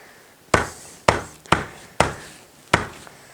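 A garlic clove being crushed open, heard as five sharp, separate thumps at fairly even intervals, each with a brief decay, loud and close with no talk.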